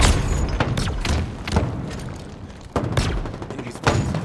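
In Halo Infinite multiplayer, a grenade blast and rounds of gunfire land as several sharp booms and bursts spaced a second or so apart, loud and punchy over continuous battle noise.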